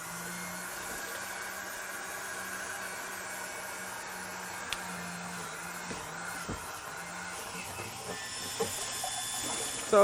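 A small pump circulates Simple Green solution through the heater core of a Porsche 996 Carrera with a steady, even hum and watery hiss, joined by a few faint knocks.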